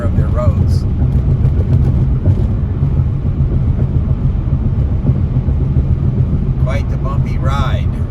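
Electric car driving a rough, bumpy road from Colorado toward Hays, Kansas; a steady low rumble of tires and cabin noise runs throughout, with people talking inside the car.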